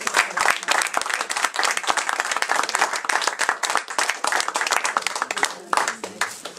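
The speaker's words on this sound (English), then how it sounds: "I think he deserves a real good round of applause." Audience applause after a talk on King George III, steady, full clapping from a room of listeners that continues throughout at an even level.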